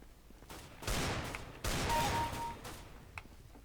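Pistol gunfire in Counter-Strike: Global Offensive, a few sharp shots spaced irregularly, each with a short burst of noisy tail, fairly close and loud with quieter gaps between.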